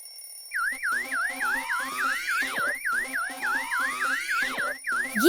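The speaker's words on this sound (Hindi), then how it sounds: "ये अलार्म कैसे बज गया?" A repeating electronic alarm beeps in a steady warbling pattern, fairly loud and continuous, with a second tone sweeping underneath.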